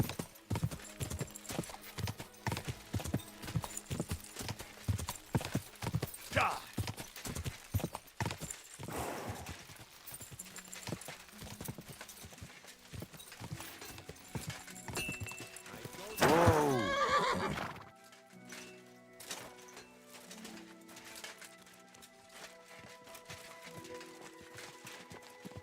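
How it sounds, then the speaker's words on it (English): Horse hooves clip-clop steadily in the game Kingdom Come: Deliverance II, with a horse neighing, music in the background, and a loud burst of hooves and whinnying near the middle before things quiet down. "I found that stolen horse of yours."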